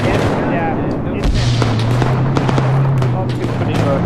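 Heavy gunfire and booming blasts fill a World War II battle in Arma 3 around a T-34 tank, with dense rapid shots and a low rumble at medium range as players shout over it.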